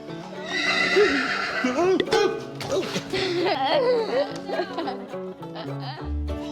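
A horse neighs and whinnies repeatedly, loud and close, with hooves shifting faintly underneath and no talking.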